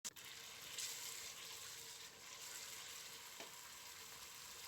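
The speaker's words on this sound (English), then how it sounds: "Now you cook the tomatoes" Tomatoes cooking in a pot give a faint, continuous bubbling hiss that holds steady and close throughout, with no talking.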